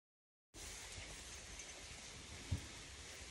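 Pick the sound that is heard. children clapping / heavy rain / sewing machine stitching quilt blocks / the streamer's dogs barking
heavy rain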